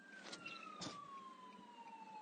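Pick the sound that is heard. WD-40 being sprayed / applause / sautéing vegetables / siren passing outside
siren passing outside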